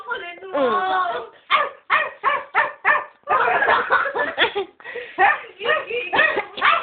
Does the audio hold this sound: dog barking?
yes